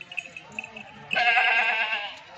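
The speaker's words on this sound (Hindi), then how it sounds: "ये बकरी है मेरा भाई गुलाबी, ये बकरी भी और बच्चे आपको चला के भी दिखा देता हूँ" A nearby goat, one of several nannies offered for sale with their kids, lets out a loud, drawn-out wavering bleat after a moment of quieter sounds and faint talk.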